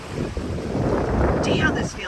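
A sailboat runs under all its sails at about 7 knots in 14 knots of apparent wind. Wind buffets the microphone and water rushes past the hull, and brief high creaks or voices come in near the end.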